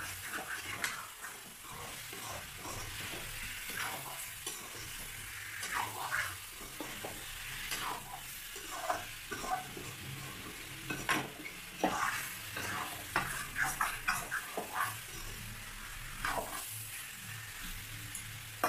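Local chicken being stirred and fried in a pan with ginger and garlic, with a steady sizzle and repeated scraping, clinking stirs of a spoon against the pan throughout, close up.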